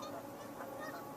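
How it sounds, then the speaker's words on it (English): Ducks call outside a window on a lake in a wetland preserve, a continuous distant chorus of honking quacks, faint and steady. "Those are ducks right outside that window."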